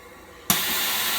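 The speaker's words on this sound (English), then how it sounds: "We are vacuum sealing both white rice and brown rice." A vacuum sealer sealing a portioned bag of white or brown rice switches on abruptly, then gives a loud, steady rushing hiss that holds evenly after a quiet start.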